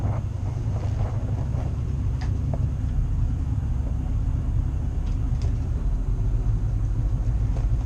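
The engine of a Luhrs 28 boat runs in gear, making a steady low rumble that goes on unchanged, mixed with wind buffeting the microphone.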